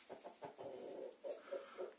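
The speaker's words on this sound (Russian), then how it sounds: "Курочки наши несутся, мешать не будем." Hens in a coop cluck softly while laying eggs, a faint series of short low clucks in an irregular rhythm, quiet and close with no talking.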